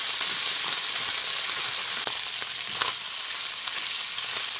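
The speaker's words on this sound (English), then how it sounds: "Now we're going to add the hash browns." Hash browns fry in bacon grease in a pan, a loud continuous sizzle with crackling pops and the occasional scrape of a spatula, and no talking over it.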